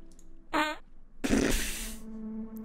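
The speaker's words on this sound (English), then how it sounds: "Somebody just farted." Fart in the Rusty Lake Paradise video game: a short buzzy toot followed by a longer, louder spluttering blast that trails off into a low hum, up close, with no talk.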